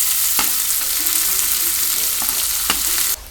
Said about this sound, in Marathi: आता टाकलाय कांदा नुसता कांदा लाल करून घ्यायचा